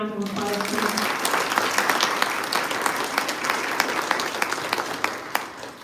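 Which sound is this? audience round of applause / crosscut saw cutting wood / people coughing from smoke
audience round of applause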